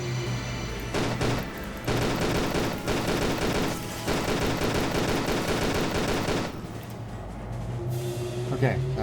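Pistol gunfire rattles continuously in Tomb Raider: The Angel of Darkness remastered, dense loud game shots and impacts packed together over several seconds, with brief dips and a quieter tail near the end.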